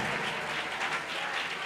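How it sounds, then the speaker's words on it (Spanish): A church congregation applauds during a worship service, a steady wash of many hands clapping at moderate volume with no pause. "Sígale aplaudiendo,"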